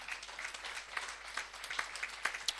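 A church congregation gives a faint, scattered round of applause, soft clapping from many hands heard at a distance with some sharper individual claps standing out.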